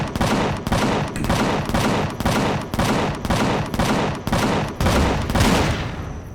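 Rapid bursts of turret gunfire in the Empyrion game, about a dozen loud, evenly spaced volleys that keep coming for several seconds with no voices.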